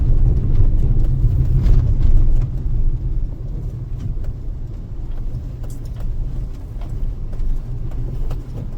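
A car drives past on a road, a loud, close engine and tyre rumble that swells in the first couple of seconds, then settles into a steady, slightly fading roar with no talk.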